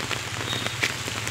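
Monsoon rain falls steadily and close by, a dense hiss of drops pattering on surfaces with occasional sharper splashes, with no voices.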